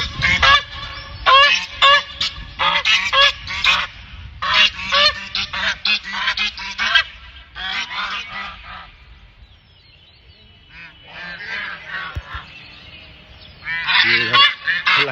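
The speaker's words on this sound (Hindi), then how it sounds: "ये यहाँ पे बत्तख घूम रही है, दिखाता हूँ आपको" Geese and ducks wandering near the Laad Bhairav temple in Kashi, Varanasi, honk and quack in dense, overlapping bursts close by, pausing briefly midway before loud honking resumes.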